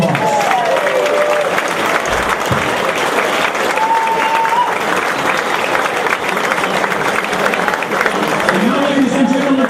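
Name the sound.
audience applause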